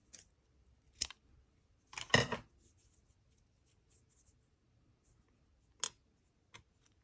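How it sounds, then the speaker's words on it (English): Scissors snip the end off a polymer clay lanyard piece: a few sharp, close, isolated cuts, including a short cluster of snips, separated by near silence. "I'll just snip off that little end bit."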